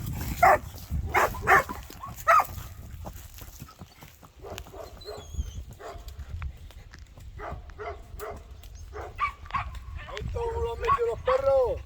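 Dogs bark in short sharp bursts near a reluctant animal named Rogelio being coaxed to come in, with barks clustered early and again near the end, while people talk throughout.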